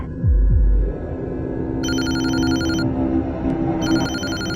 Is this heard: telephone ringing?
yes